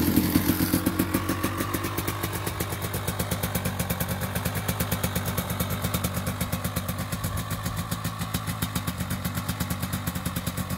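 A dirt bike engine idles steadily while warming up in fresh powder snow, its close, even, rapid thumping clatter running throughout with no talk.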